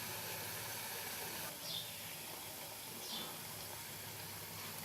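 Chana dal lentil fritters fry in refined oil in a wok, giving a soft, steady sizzling hiss at low volume with a couple of brief brighter spurts as pieces go in.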